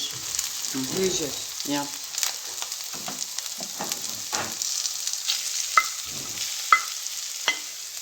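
Chicken fries in a pan for a pizza topping, sizzling close and loud while a utensil stirs and scrapes in irregular bursts, ending with a few sharp taps against the pan; one short word is spoken early on.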